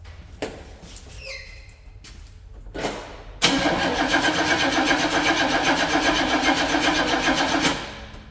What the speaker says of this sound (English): Let's put a little gas in the tank,